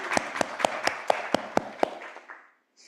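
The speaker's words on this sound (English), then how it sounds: "Please, can we have a round of applause for the organizers of the GEMinAI program?" Applause for the organizers at the close of an event: a steady run of about ten evenly spaced, close claps, sounding like only a few hands, that slows and fades out after about two seconds.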